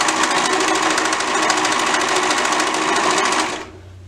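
Serger sewing machine stitching the shoulder seams of a dress, running in a loud, steady, fast mechanical whir for over three seconds before stopping abruptly, leaving a faint hum.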